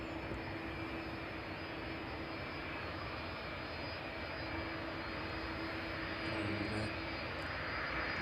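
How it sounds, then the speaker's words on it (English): A Maersk Boeing 767 jet on approach to East Midlands Airport gives off a steady distant engine whine and rumble, faint but continuous, swelling slightly toward the end. "that Maersk 767 fast approaching from behind"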